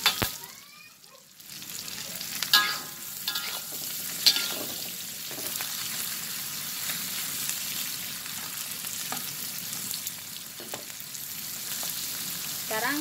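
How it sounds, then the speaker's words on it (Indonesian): Green chilies fry in a pan, seasoned with Ajinomoto, giving a steady close sizzle with soft stirring scrapes and a few clinks throughout. "Sekarang kita goreng sehingga dia masak guys ya"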